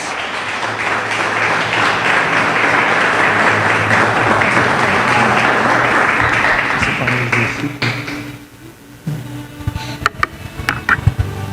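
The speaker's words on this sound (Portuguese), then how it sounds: "Se você crê, diga amém, aplauda o nome de Jesus." A Portuguese-speaking church congregation applauds loudly and steadily during a Sunday service, a dense sustained wash of clapping that thins out toward the end, where a few scattered claps and a voice come through.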